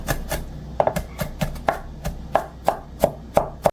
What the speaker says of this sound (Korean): 마늘도 굵직굵직하게 다져요.